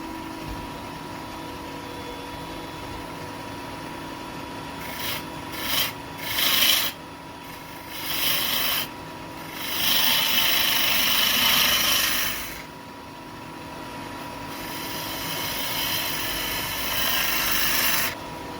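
Woodturning tool shaping the outside curve of a wooden pot lid spinning on a lathe, a steady close scraping rasp with several louder bursts and swells as the cut deepens, no voices.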